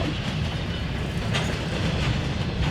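Freight train cars roll past close by with a loud, continuous rumble and rhythmic clickety-clack of wheels over rail joints, steady throughout.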